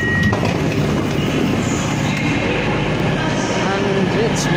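A Cross Country Voyager train rumbles steadily at Newcastle station, with loud, continuous rail noise and faint squeals and clacks heard close by.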